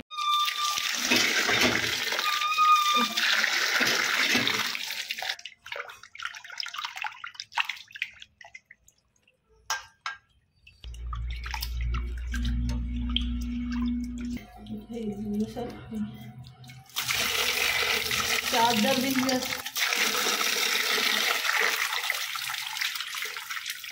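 Cut pieces of snakehead fish are washed in water, with dripping and splashing from a tap into a basin, loud at first, a quieter gap midway, then steady running water with some low handling noise.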